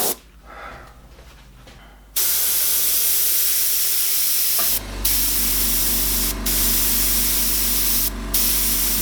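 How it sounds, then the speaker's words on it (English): An airbrush sprays paint in a loud steady hiss that starts abruptly after a quieter moment, runs continuously with a few brief dips where the trigger is released, and carries on to the end. "So point your airbrush downwards."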